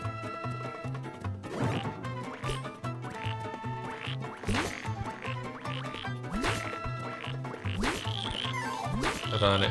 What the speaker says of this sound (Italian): Rane andate.